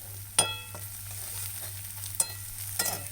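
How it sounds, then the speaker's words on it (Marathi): Spice masala for vada pav fries in a pan with a low steady sizzle, close up, and a few sharp scrapes and clinks of a spoon stirring it. "मसाला मस्तपैकी फ्राय केलेला आहे बघा मस्त झाला आहे"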